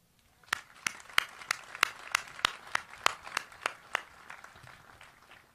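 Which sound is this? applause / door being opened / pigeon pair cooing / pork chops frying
applause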